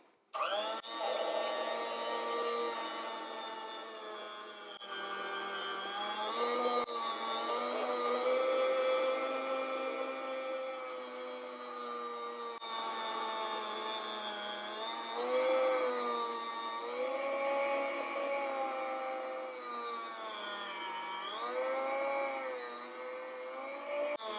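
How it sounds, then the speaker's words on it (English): A Chef's Choice Very Tilt Model 632 electric meat slicer cuts homemade dry-aged capicola, giving a steady, close, loud motor whine with shifting pitch that runs continuously throughout. "the little meat slicer I'm using here is made by Chef's Choice, and it's the Very Tilt Model 632"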